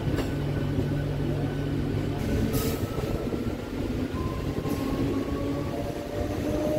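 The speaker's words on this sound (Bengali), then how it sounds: "এখান থেকেই আমাদের ট্রেনটা ডান দিকে ঘুরে যাচ্ছে মেদিনীপুরের দিকে" A Howrah–Midnapore local train runs on toward Medinipur, its steady rolling rumble and clatter filling the scene, with brief squealing tones from wheels on the track and no talking.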